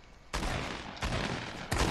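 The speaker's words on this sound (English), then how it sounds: "stop shooting me, shoot Jada" Gunfire in a video game squad match: dense, crackling bursts of shots start abruptly and repeat in three loud surges, with brief dips between them and no voices.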